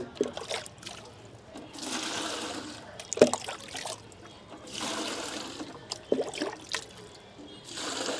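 Water is drained out of a home fish tank during cleaning, with bursts of gushing and splashing separated by quieter trickles and a few clunks, close and fairly loud with no talking.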